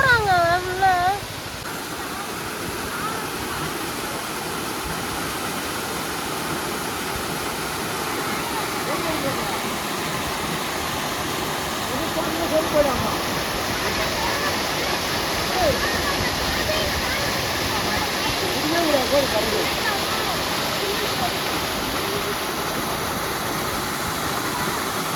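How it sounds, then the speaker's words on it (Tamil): Waterfall at Kanthaloor hill station, a loud steady rush of falling water that fills the whole scene, with people's voices heard over it near the start. "இந்த மாதிரிலாம் ஃபால்ஸ் நான் பார்த்ததே இல்லை."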